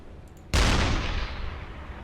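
A U-boat's deck artillery gun fires a single loud, booming shot in the UBOAT video game, the blast hitting suddenly and then rolling off into a long, fading rumble with no voices over it.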